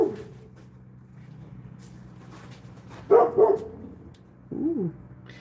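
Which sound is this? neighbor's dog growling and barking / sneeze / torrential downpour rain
neighbor's dog growling and barking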